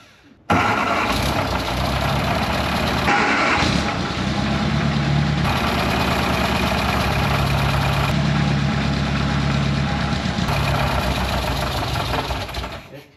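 An MG Midget roadster engine, unused for 54 years and with a badly leaking exhaust, starts and settles into a rough, uneven idle, running continuously and close by with a loud, rumbling low drone.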